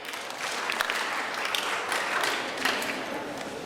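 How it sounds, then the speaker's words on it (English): Audience at a middle school graduation ceremony clapping, a broad wash of many hands sustained for several seconds at moderate level, with no talk over it. "Clap your hands once."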